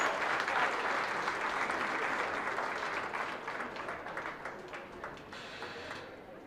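An audience at a county goat show applauds the young showmanship exhibitors, a full steady round of clapping that gradually thins and fades over several seconds.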